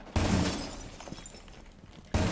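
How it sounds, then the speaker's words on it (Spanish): Glass windows shatter in Rainbow Six Siege, one sharp loud crash of breaking glass with tinkling debris trailing off, then a second abrupt burst at the end. "Rompo yo ventanitas, ¿vale?"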